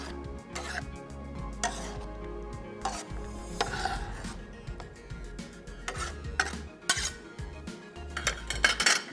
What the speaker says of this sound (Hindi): सिर्फ एक दफ़ा इसको मिक्स करके हम छोड़ देंगे दम पर